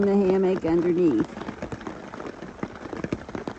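Rain patters steadily on a hammock tarp during a wet hike, a close, irregular drumming of drops that starts under a voice and continues alone.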